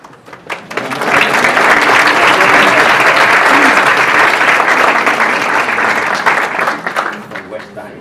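An audience at a conference session on sex-selective practices breaks into loud applause after an address by a papal nuncio, dense clapping swelling quickly and holding for several seconds before easing off.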